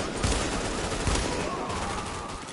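Gunfire in The Division video game, sharp bursts of shots stacked over a dense battle din, loud and close across a short stretch.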